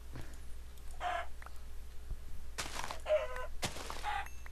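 Chickens clucking in a Minecraft-style survival game, short bursts of clucks at intervals with quiet gaps between them, close and clear, with no talking.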